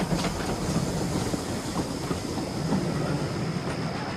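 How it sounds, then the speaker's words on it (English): Stepney, a steam locomotive in an animated Sodor remake, rolls along with steady rhythmic wheel clatter and rail noise, loud and continuous. "And with that, Stepney puffed away into the night."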